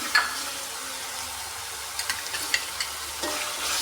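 Tomato goes into onions frying in a pan for a paneer dish, giving a steady close sizzle, with a burst at the start and several light spatula taps and stirring scrapes.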